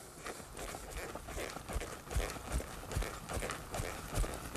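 A horse trots over ground while working a mechanical cow, its hooves clip-clopping in a steady, fairly close rhythm with some background noise.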